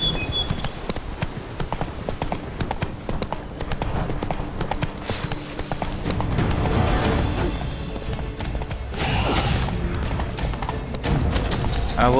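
Horse hooves clip-clop steadily in The Witcher 3: Blood and Wine, a continuous rhythmic trot with a whinny partway through, loud and close.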